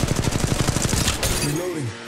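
Rapid automatic gunfire in Apex Legends Mobile, a dense run of evenly spaced shots that stops abruptly, followed by a brief synthetic chirp.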